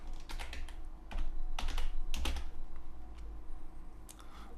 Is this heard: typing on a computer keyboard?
yes